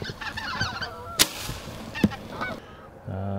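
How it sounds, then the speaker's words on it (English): Canada geese honk over open cornfields and winter wheat, with many overlapping calls from a flock at middle distance, two sharp bangs cutting through, and a low engine-like drone joining at the end. "this is where the Canadian geese love to work the cornfields and the winter wheat"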